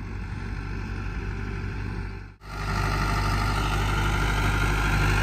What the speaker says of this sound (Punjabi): ਇਸ ਟਾਈਮ ਦੂਸਰੇ ਗੇਅਰ 'ਚ ਮਾਰ ਰਹੇ ਆ ਜੀ ਰੋਟਾਵੇਟਰ